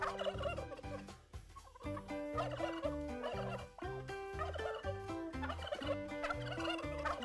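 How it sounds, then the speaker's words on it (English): A farm turkey gobbling in rapid, rhythmic bursts, several loud, close, warbling calls repeating over a few seconds with short gaps between them. "Turkey. It's a turkey."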